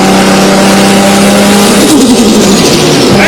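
A human voice imitates a Nissan Skyline R34 car engine, producing a loud, buzzing, continuous revving drone that holds steady and then wavers and rises near the end.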